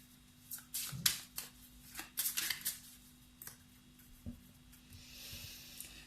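A tarot or angel card deck being shuffled by hand, with several bursts of riffling and brushing card noise, close and fairly quiet, and a short soft laugh-like sound near the start.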